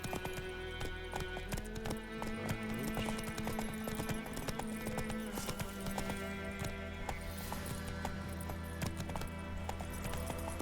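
Roach, a horse in The Witcher 3, gallops with a steady, rapid clip-clop of hooves under a continuous game music score, with a brief whinny.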